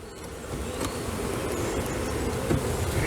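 A dense, steady hum of honey bees fills an open hive at close range, a low buzzing drone with a few faint knocks and no voices.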